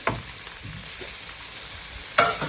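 Corned beef frying in a pan for breakfast, a steady close sizzle with scraping stirs of a utensil, the loudest scrape near the end.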